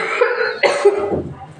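A child coughs several times in quick succession, close and fairly loud, the hacking bursts tapering into a softer throaty breath at the end.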